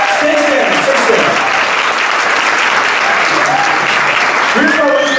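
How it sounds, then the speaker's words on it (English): Audience applause at a sales rally breaks out in sustained clapping, steady and loud across the whole stretch, with faint voices and cheers mixed into the crowd noise. "Give them a round of applause."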